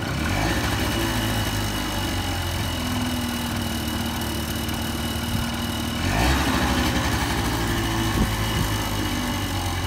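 A two-stroke automatic motorcycle engine runs steadily close by, a buzzing idle with a rise in pitch around the middle as the throttle is blipped, then settling back.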